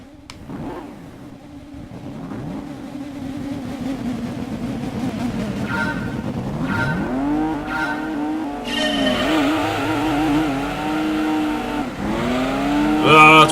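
A Dodge Viper Series 1 race car in Gran Turismo 2 revs hard through rising and falling engine sweeps and gear shifts, with tire squeal building toward the end and a voice talking over parts of it.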